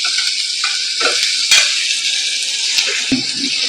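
Chopped onion sautéing in hot oil with mustard seeds and cumin for a mushroom masala, a loud, close, continuous sizzle broken by a few stirring clinks and scrapes.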